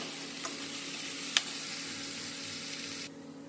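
Cauliflower filling in a frying pan gives a steady, even sizzle with a couple of light ticks of the spoon, quiet and continuous until it drops off near the end.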